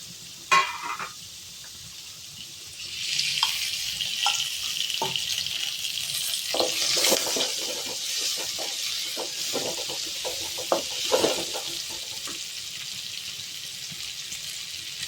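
Onions frying in a pan as the start of sundakkai vathal kuzhambu, a steady crackling sizzle with occasional stirring scrapes and a few sharp pops, close and moderately quiet.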